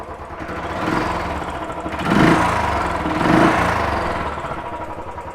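A 2018 Royal Enfield Classic 500 Pegasus single-cylinder motorcycle idling close by with a steady thumping rumble, rising in two brief blips of revs before settling back to idle.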